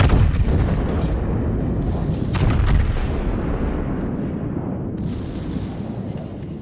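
Heavy battleship main guns boom in World of Warships naval combat, a loud sustained rumble of repeated cannon fire with sharp blasts around two seconds in and again near five seconds, with no talking.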